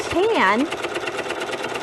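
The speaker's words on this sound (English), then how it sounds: "Following the lines of our presser foot, we're just simply going to stitch." A sewing machine runs steadily while stitching fabric along the presser foot, its even mechanical whir continuing throughout, with a brief rising and falling voice near the start.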